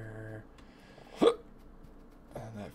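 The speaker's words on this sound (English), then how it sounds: "I got the hiccups" A man gets the hiccups while playing Factorio, with two sharp hiccups breaking through his nearby, close-miked talking.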